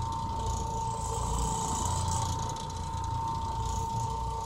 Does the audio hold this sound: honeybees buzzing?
no